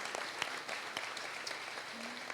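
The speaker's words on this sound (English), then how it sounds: "Please join me in a round of applause to congratulate these students and their faculty for all their hard work" An audience at the 2019 THREADS by GBC runway show applauds the students and faculty, with soft, fairly distant clapping that holds steady throughout.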